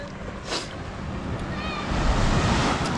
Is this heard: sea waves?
yes